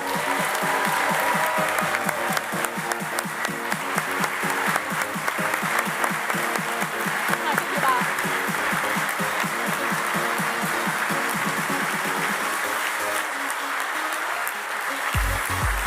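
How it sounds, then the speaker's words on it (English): Audience applause at an apprenticeship awards ceremony, sustained clapping from a large crowd with faint music underneath, carrying on for most of the span before thinning and stopping near the end. "they will get the biggest round of applause of the evening"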